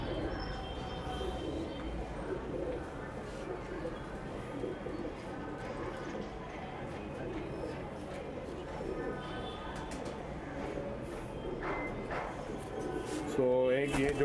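Pigeons coo softly and repeatedly in a pigeon club loft, low rolling calls under steady background noise, with a brief sharper rustle near the end.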